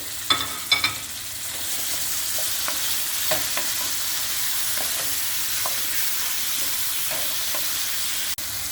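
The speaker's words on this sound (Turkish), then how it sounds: "Kapya biberimi, yeşil biberimi ilave ediyorum. Onları da kavuruyorum" Red kapya peppers and green peppers sauté in tomato paste for Amasya-style çullama, giving a constant close sizzling hiss with a few spoon clacks and scrapes against the pan as they are stirred.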